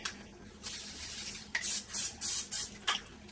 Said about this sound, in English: some cooking spray